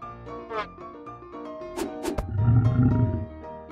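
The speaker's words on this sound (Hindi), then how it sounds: "यह एक बाघ है।" A tiger roars loudly and close, a deep rumbling growl building and swelling toward the end, layered with bright synthetic effects and music in a children's animal-learning song.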